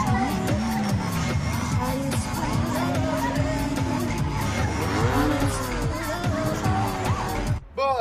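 A Datsun S30 Z does a burnout in Tokyo, with loud, continuous tire squeal and skidding over a roaring engine, wavering screeches layered throughout before a brief dip near the end.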